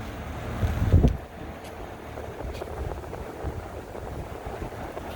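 An air-source heat pump heating domestic hot water runs loudly outdoors, giving a steady whooshing fan drone with wind noise and a brief low thump near the start.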